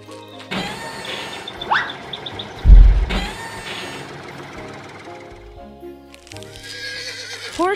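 Horses whinny and snort amid farm noises, with a loud low thump partway through and a rising squeal near the end.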